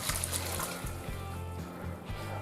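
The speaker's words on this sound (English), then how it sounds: "We're going to drain them." Cooked baby octopus is drained in a kitchen, water pouring and splashing steadily into a sink in a close, continuous gush with small gurgles, no voices.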